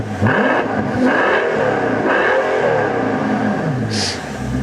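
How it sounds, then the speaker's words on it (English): A Mercedes S65 AMG's V12 engine revs loudly and close, rising and falling in pitch through a few throttle blips before a brief sharp burst near the end. "which provides wonderful V12 music to your ears"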